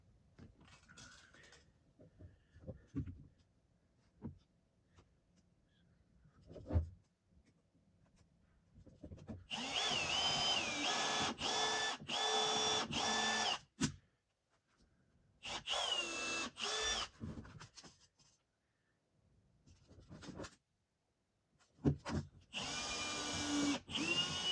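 A power drill bores nail holes in a front door, running in three sustained bursts separated by quiet pauses and small handling knocks, close and fairly loud.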